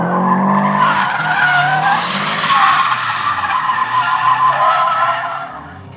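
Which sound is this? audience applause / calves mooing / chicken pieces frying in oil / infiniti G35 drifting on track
infiniti G35 drifting on track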